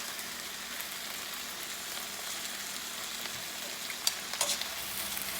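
Fajita vegetables and onions sizzle steadily in a hot pan, a dense continuous frying hiss with a few brief clatters of stirring near the end, with no one talking.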